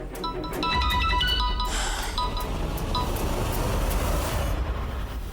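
A mobile phone ringtone chimes in a repeating electronic melody for a few seconds indoors, followed by a softer continuous background hum with faint clinks.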